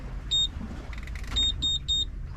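Four short high electronic beeps, one alone and then three in quick succession, clear over a low engine-like rumble.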